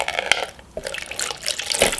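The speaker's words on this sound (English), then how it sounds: "So I'm gonna go ahead and mix it with water." Water poured into henna powder for hair dye, a close splashing trickle of liquid with small drips, brief and fairly clear.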